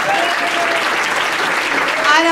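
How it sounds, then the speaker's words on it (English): An audience bursts into loud, close applause in a comedy or political talk-show setting, with dense clapping sustained throughout and a few whoops rising near the end. "how about a round of applause for that"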